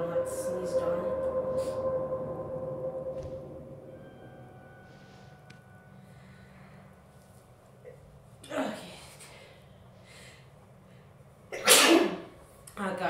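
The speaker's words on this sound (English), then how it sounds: "Sorry guys for sneezing." Two sharp sneezes in a park, the first moderate and the second loud and close, following a stretch of quiet talk.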